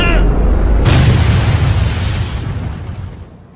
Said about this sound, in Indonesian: Shimano melemparkan granat ke Haruka dan Kazama yang sedang berdiri beberapa meter di depannya hingga akhirnya terjadi ledakan